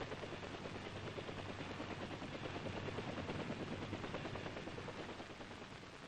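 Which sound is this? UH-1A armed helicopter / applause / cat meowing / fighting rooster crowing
UH-1A armed helicopter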